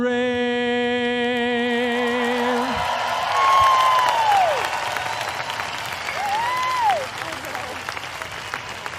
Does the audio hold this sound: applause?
yes